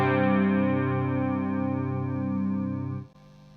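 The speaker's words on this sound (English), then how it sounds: "The bass tone, I've got a little bit of chorus going through" A clean bass guitar tone run through a light chorus effect, an otherwise dry signal: one sustained note with a gentle wavering shimmer, close and clear, fading after about three seconds.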